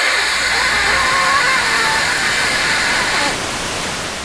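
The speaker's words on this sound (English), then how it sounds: "This is a unique specimen, not because it doesn't have sound, but because it outputs white noise." Steady hiss of white-noise static from the LJN Video Art game, loud and unbroken throughout, dropping slightly in level near the end.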